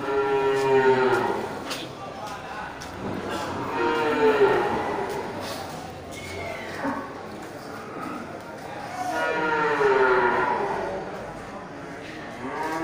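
Feeder cattle being raised for fattening moo repeatedly in long, drawn-out calls, some close and loud, while people talk nearby.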